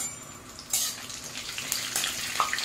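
Cumin and dry spices sizzling in hot oil as chopped onion is added for a paneer curry, a steady close frying hiss with a louder burst as the onion goes in and small crackles throughout.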